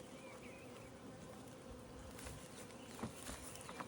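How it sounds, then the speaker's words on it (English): Honeybees buzz steadily around open hive frames while a nucleus colony is set up, a faint, continuous hum with a few nearer passes toward the end. "Few bees."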